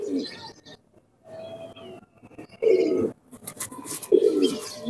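Domestic fancy pigeons coo in short, breathy bursts from close by, with brief pauses between calls and faint rustling in between.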